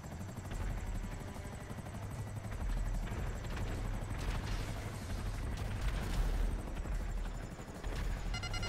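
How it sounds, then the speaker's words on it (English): A helicopter in the video game GTA roars steadily throughout, with a dense low rotor thump and engine drone, punctuated by bursts resembling gunfire or explosions. "I'm in the helicopter."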